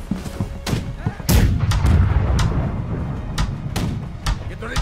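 Heavy ship cannons boom in a broadside during a Blackwake naval battle, a run of loud overlapping blasts with sharp cracks and a rumbling low tail, while voices call out over the gunfire.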